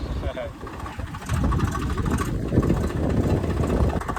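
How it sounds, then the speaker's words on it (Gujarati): A tractor engine rumbles steadily nearby in a village farm field at sowing time, growing louder partway through, with strong wind buffeting the microphone. "ટ્રેક્ટર આવી ગયે ટ્રેક્ટર"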